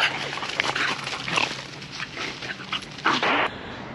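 A dog on an early morning walk in a park gives soft, breathy whimpers and snuffling yips close by, with rustling movement throughout.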